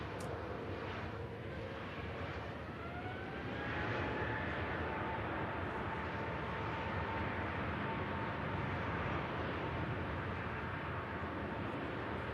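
A Singapore-bound airliner at Manchester Airport rumbles steadily as a broad, sustained jet roar that swells slightly partway through and holds loud to the end, with no voices.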